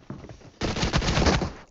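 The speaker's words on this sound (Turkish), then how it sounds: "İki tane vurdum Mevzat'a." Gunfire in the mobile battle royale game PUBG Mobile: a single shot followed by a loud, dense burst of rapid automatic fire lasting about a second, close and dominant with no talk over it.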